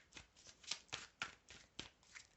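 Tarot cards being shuffled by hand, a series of six or seven crisp riffling bursts at a steady rhythm, close and quiet with no talk.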